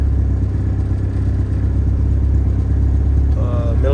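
A stock Honda B18B1 turbocharged engine idles steadily with a loud, constant low rumble and clatter throughout, tuned slightly leaner on pump 93 fuel, with a faint voice briefly heard near the end.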